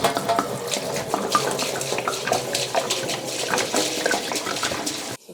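Water pours from a tap into a beer brewing kettle while brewing a Strong British Ale, a close, steady gushing fill that stops abruptly near the end.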